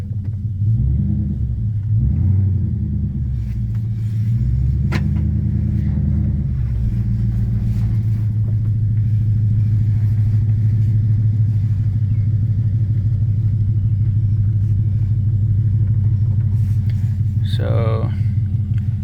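Ford Crown Victoria engine running while the car backs up, a loud steady low rumble close by, with someone talking over it and a brief higher whine near the end.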